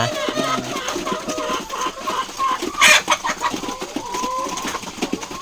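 Chickens cluck close by in a morning farmyard, a run of short, uneven clucks with one louder squawk in the middle over a light outdoor background.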